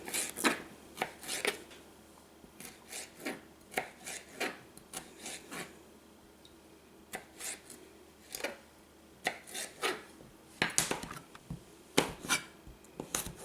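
A knife slices through a vegetable on a cutting board for bison burgers and vegetables, giving a series of crisp, close chopping taps in irregular bursts with soft scraping between them and no talk.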